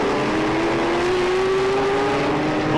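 Classic race cars, among them a Ford GT40 and a white Porsche, running at the Jarama circuit, heard as a loud sustained engine drone with a rising pitch as they accelerate past, with no talk.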